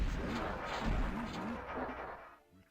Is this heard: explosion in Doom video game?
yes